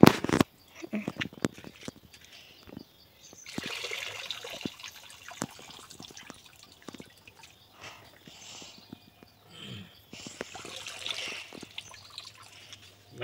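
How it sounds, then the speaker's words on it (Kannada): Wild mushrooms are rinsed of soil in water, with intermittent sloshing, trickling and splashing bursts close by, alternating with quieter gaps while a person talks. "ಮೂರು ಸರಿ ನಾಲ್ಕು ಸರಿ ತೊಳಿತೀವಿ ನೀಟಾಗಿ."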